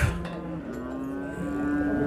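A cow at a livestock market in Van, Turkey, moos once in a long, low, drawn-out call, fairly close and clear, with quiet background.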